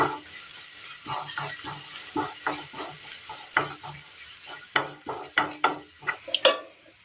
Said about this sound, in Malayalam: ക്യാരറ്റ് ഒന്ന് വഴന്ന് കിട്ടിയിട്ടുണ്ട്